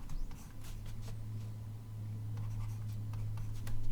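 Chalk or marker scratches out equations on a board in faint, scattered strokes, set against a steady low hum in a quiet lecture room.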